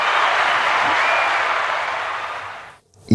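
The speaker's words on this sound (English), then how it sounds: "Clap for that" Dense, steady applause from a crowd, loud and sustained, fading slightly before cutting out near the end with a brief burst of another sound.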